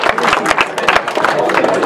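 A crowd claps for a cyclist at a bike race finish, a quick burst of uneven hand claps with some cheering mixed in, close and loud.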